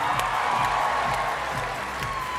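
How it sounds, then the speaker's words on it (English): A large crowd at an international science fair opening ceremony applauds Team Australia with steady, dense clapping and some cheering, filling the hall continuously and without a break. "A round of applause for Australia."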